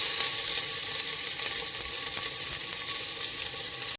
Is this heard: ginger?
yes